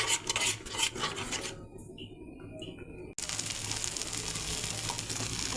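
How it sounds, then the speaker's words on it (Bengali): Spice paste for a duck egg curry is stirred and scraped in a pan, with rasping utensil strokes and a soft sizzle; a quieter stretch midway is followed by steady continuous scraping and frying. "এখন আবার ভালো করে কষিয়ে নেব।"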